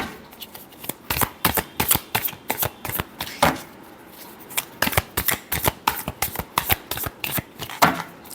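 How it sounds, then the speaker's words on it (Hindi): A deck of tarot cards shuffled by hand nearby, producing rapid bursts of riffling, slapping card sounds in an uneven rhythm with brief pauses between runs, clear and without speech. "last shuffle"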